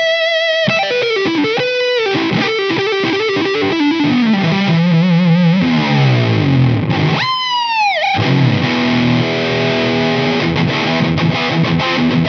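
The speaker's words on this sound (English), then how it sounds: "the neck humbucker is so creamy with the distorted sound." Ibanez Jiva Jr. electric guitar played through its neck humbucker with heavy distortion, a loud, sustained run of melodic lines, bends and a dive-like swoop, with long ringing notes at the end and no talking.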